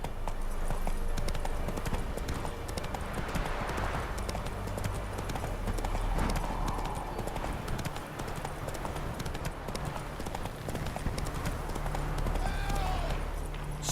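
Roach the horse's hooves pound in a fast, steady gallop in The Witcher 3 video game, a continuous loud clip-clop rhythm with game ambience underneath.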